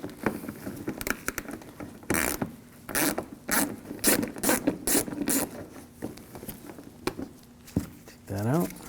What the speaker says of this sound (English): I'm going to take these screws out on the side,